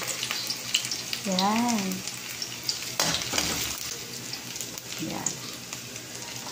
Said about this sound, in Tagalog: gigisa na natin ang sibuyas muna, syempre